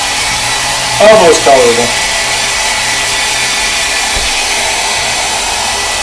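A hair dryer runs loudly and continuously close by while drying a mixed media art journal page. Someone speaks briefly over its steady whooshing drone near the start.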